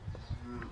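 A young half-blood Gir and Girolando bull on a farm gives a short, close, low moo, with faint farmyard background.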